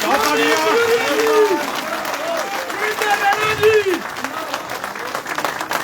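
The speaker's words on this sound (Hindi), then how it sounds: "और ये भारतीय जनता पार्टी जोरदार तालियों के साथ" Supporters clap loudly as Senior NC leader Sanjeev (Romy) Khajuria joins the Bharatiya Janata Party at a political welcome event. Steady crowd applause runs throughout beneath someone speaking loudly over it.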